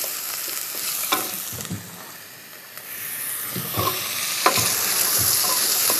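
Chopped carrot and celery sauté with onion and garlic in a pan, giving a steady sizzle and hiss cut by repeated scraping knocks of a utensil stirring them.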